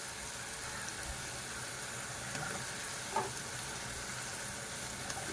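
Chopped tomatoes sizzle in frying masala for a simple fish curry. A soft, steady hiss continues throughout, with a faint clink of a utensil around the middle and no talking.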